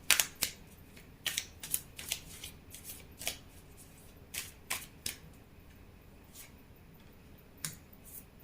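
Tarot cards being taken out and handled for a reading, close and quiet, with a run of crisp flicks, snaps and shuffling clicks in irregular bursts.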